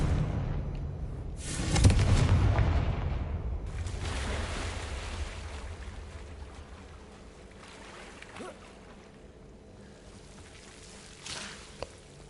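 Confringo blasting curse cast in Hogwarts Legacy, a loud burst with a rumbling blast that fades slowly into a quiet, airy ambience, followed later by a faint sharp click.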